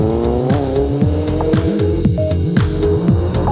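A Ferrari rally car at the 2002 Rally of the Lakes drives over bumpy Irish stages, its engine loud and close, revving up and dropping back through repeated gear changes with a brief tyre squeal. No one speaks.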